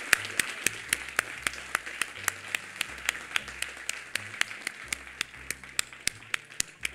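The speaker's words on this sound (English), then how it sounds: "give a round of applause to Jeff" At a student video game demo, a small group applauds a helper: sparse, evenly spaced individual claps ring out over a soft bed of lighter clapping and low rumbling.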